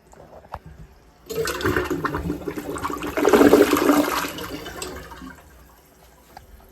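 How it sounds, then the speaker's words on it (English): A house toilet flushes in one loud rush of water that swells, peaks and then drains away to quiet, close by with no talk over it. "Nice flush."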